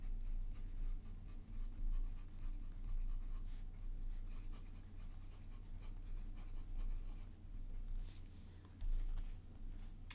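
A fountain pen with a stubby, smooth nib, inked with a deep black ink, writes steadily on paper, giving close, continuous scratchy strokes with brief pauses over a low background hum.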